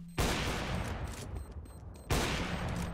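Rapid automatic gunfire from Counter-Strike: Global Offensive crackles in two dense, loud bursts, a continuous barrage of close shots with a brief dip in the middle.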